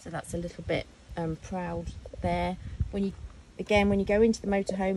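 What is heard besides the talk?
No distinct noise like a dog, phone or traffic.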